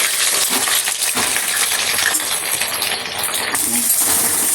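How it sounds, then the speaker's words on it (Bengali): Potatoes drop into hot oil for frying, setting off a loud, dense, close sizzle that fills the whole stretch with a steady crackling hiss. "তেল গরম হয়ে গেছে, আলু দিয়ে দিচ্ছি। আলুটা ভালো করে ভেজে নেবো।"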